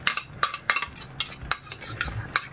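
Chopsuey is stirred in a pan with a metal utensil, producing a quick, irregular series of scraping clanks and taps against the cookware, with faint frying underneath.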